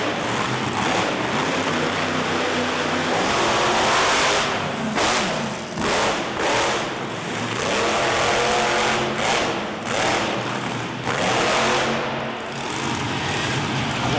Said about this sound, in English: Quad Chaos Big Air Aaron Kane announcing his presence, heading straight towards the scoreboard